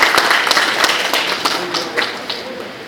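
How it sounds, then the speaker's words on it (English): Applause from the audience at a corporate awards event where companies are named one after another, with dense irregular claps and several sharper strikes standing out, steady and fairly loud throughout. "Round of applause, please."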